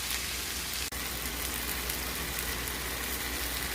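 Sauce sizzling steadily in a hot pan with Pad Thai noodles, sprouts and peanuts, a close, even hiss of frying with a single brief dropout near the start.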